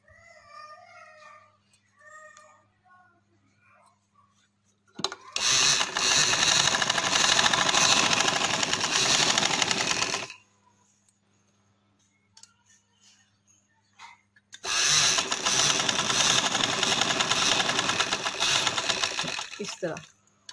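A sewing machine stitches a fabric pajama piece in two long loud runs of rapid, even whirring, each about five seconds, separated by quiet pauses with faint movement and light handling sounds.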